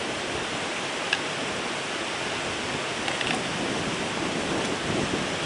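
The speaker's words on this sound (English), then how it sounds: "The wind's fair blowing it, isn't it?" Wind blows steadily outdoors beside a small bracken fire, a constant broadband rush with faint gusts and no speech.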